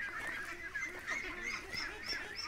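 Loud, continuous honking calls from a flock of waterfowl, likely ducks or geese, come in repeated overlapping bursts close by, with no talking.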